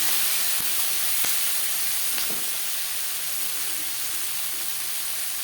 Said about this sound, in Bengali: সাত আটটা পেঁয়াজ অ্যাড করলাম পেঁয়াজ টমেটো হালকা করে ভেজে নেব